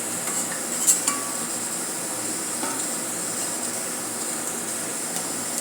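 Puris deep-frying in a pan of hot oil, a steady broad sizzle throughout with a couple of faint clinks early on, no talking.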